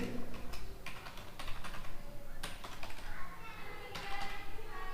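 Fingers tap rapidly on a computer keyboard, entering an email address with irregular clusters of close, crisp key clicks and brief pauses over several seconds, with faint background noise and no talk.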